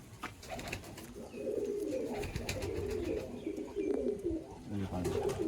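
Pigeons in a loft coo close by in repeated soft, throaty phrases with brief pauses, over quiet background noise.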